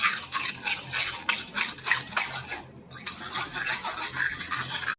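Plain yogurt pressed and scraped through a metal kitchen sieve, giving a steady, close rasping and rubbing with a rhythmic stirring scrape that runs continuously for several seconds, with one brief pause.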